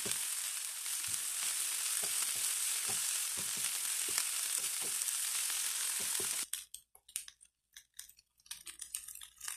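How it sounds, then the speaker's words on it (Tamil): Curry leaves roast in hot oil in a pan, giving a dense, steady sizzle and crackle for several seconds that cuts off suddenly, followed by a few soft clicks and scrapes. "நம்ம கருவேப்பிலை ஆட் பண்ணிவிட்டு 1 மினிட்டு ரோஸ்ட் பண்ணால் போதும்."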